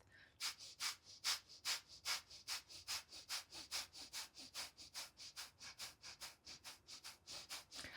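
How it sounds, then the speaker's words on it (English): Rhythmic sharp exhales through the nose during Pilates breathing, each forceful puff followed by a quiet passive inhale, repeating steadily about three times per second, close and clear with no talking. "It's passive inhale, sharp exhale."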